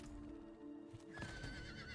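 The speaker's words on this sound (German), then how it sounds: "Wir haben ein Pferd." Horse neighing in the Diablo IV video game, a clear whinny rising midway and carrying on over steady background game music, with no talk.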